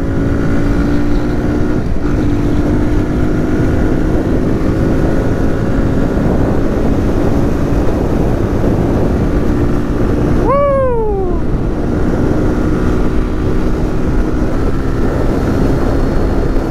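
A Kawasaki Z125 Pro motorcycle on street tires runs in third gear, its loud steady engine drone continuing throughout, with one brief falling pitch sweep partway through.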